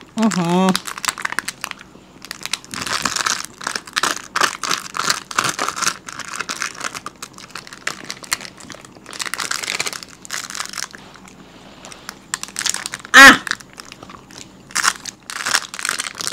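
Someone bites and chews a burger bun during a spicy street-food eating challenge, with close crunching, crinkling and tearing bursts in an irregular rhythm and voices talking in between.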